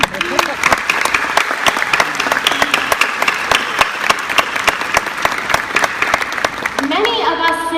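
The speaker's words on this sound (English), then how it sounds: "That deserves applause." A large audience at a high school graduation commencement bursts into sustained, loud applause, many hands clapping steadily for several seconds before it begins to fade.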